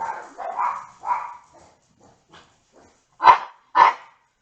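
Dogs in the woods bark excitedly, several rough barks and whimpering yips in an uneven burst followed by two louder, close barks.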